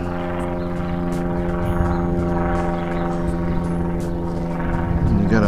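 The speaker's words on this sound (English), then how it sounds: "hear an airplane up there?" A propeller airplane flies overhead, a steady, droning hum holding at a constant level throughout, with faint outdoor rustles and knocks close by.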